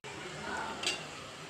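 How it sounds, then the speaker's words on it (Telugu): Masala paste fries in a pan for a beans curry, a steady soft sizzle with a faint stirring scrape and a light clink near the end, with a voice speaking in the background. "పచ్చివాసన పోయే వరకు బాగా ఫ్రై చేసుకోవాలి"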